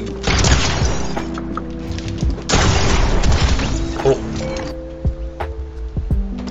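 Rapid bursts from a combat SMG in a video game, a dense, loud stream of fast shots with booming impacts, breaking off briefly near the middle and trailing into scattered hits and tonal game sounds toward the end.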